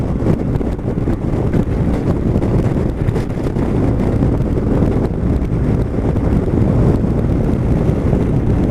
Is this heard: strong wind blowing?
yes